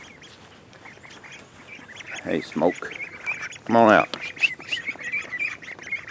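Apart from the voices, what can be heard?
ducks quacking on a farm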